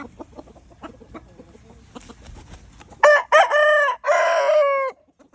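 A young rooster, a Thai gamecock, crows loudly and close by, a broken, cracking call in three bursts after a few seconds of quiet clucking and shuffling.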